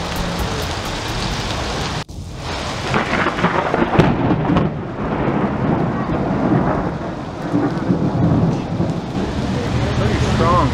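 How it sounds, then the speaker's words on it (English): Thunderstorm in Cuenca, Ecuador: heavy rain hisses steadily on surfaces while a loud, close thunderclap cracks early and rolling rumbles follow, continuous throughout. "Literal thunderstorm, literal."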